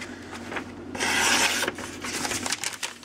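A sharpened knife slices through a slightly damp sheet of paper, giving a brief close rasping swish in the middle, surrounded by softer scraping rustles.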